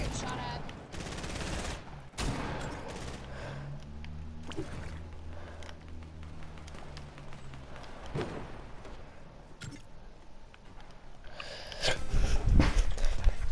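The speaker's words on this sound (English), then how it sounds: "you're getting shot at." Bursts of gunfire in the video game Fortnite, several rapid shots and volleys scattered across the scene with a heavier flurry near the end, alongside other game sounds.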